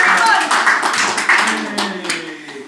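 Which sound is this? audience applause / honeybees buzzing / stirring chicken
audience applause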